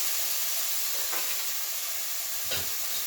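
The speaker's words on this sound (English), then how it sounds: "Right into the pan. For that sizzle." Steady, loud hissing sizzle of spaetzle frying in a hot pan, with a couple of brief crackling bursts.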